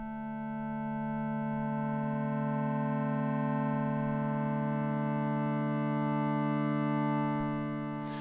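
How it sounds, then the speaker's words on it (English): Sustained nasal, additive-style wavetable tone from an Arturia Pigments synth pad, a steady bright harmonic stack held for about seven seconds, swelling slightly before fading, with no voices. "that gives us a kind of nasal sort of additive style sound"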